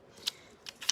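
Scissors hand-cutting stamped paper: three quick, crisp snips close by, one alone and then two in fast succession.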